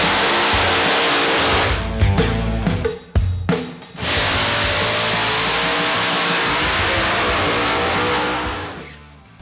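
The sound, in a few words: drag race cars accelerating down the track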